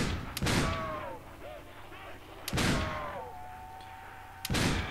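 Three heavy shotgun blasts at roughly two-second intervals, fired at zombies in a custom World at War zombies map, each boom followed by a fading tail and faint in-game tones between shots.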